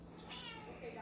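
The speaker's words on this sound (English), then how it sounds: "Don't mind the cat, she's noisy." A noisy pet cat meowing indoors in a home kitchen, a faint, brief cry that sits under a nearby voice talking.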